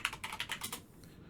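A password typed on a computer keyboard, a quick run of about eight soft key clicks in an even rhythm that stops after about a second, close and quiet, no voices.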